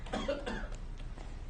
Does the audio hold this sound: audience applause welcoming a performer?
no